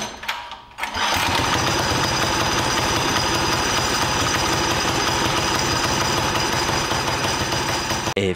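A built Mudskipper 7.5hp engine roars steadily on a dyno, loud and close, holding a constant droning pitch for about seven seconds after a brief quieter start, then cutting off abruptly at the end.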